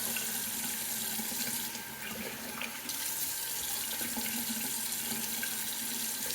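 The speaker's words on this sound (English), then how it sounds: "Let me rinse off." Water runs steadily from a bathroom tap into a sink as shave soap is rinsed off, a continuous close splashing hiss that holds for several seconds with no voices.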